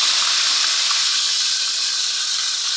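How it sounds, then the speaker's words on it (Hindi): Water splashed into a hot pan of masoor dal pulao with salt, giving a steady, loud broadband hiss and sizzle that holds evenly throughout, close by and with no voices. "साथ ही हम थोड़ा सा छींटा लगाएंगे पानी का।"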